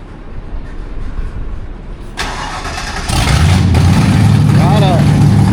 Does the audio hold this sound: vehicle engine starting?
yes